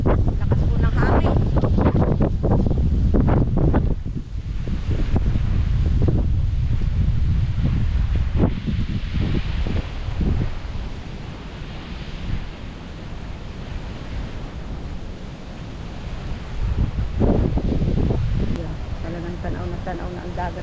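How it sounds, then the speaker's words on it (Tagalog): Strong typhoon wind roars loudly and steadily alongside surging sea waves at the shore, with heavy gusty buffeting on the microphone throughout and a person talking over it. "Lakas po ng hangin."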